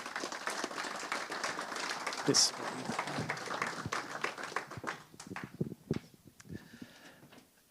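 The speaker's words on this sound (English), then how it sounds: "Give them a round of applause." Audience applause for two presenters, Marcus and Abi, at a renewable energy investment guarantee launch event, a spread of clapping that thins out toward the end, with a brief spoken word at the close.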